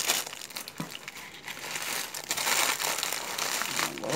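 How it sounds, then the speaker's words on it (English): Tissue paper crinkled and rolled back up around an item, producing steady close crackling and rustling throughout, loud and alone without talk. "Roll this back up in the tissue paper."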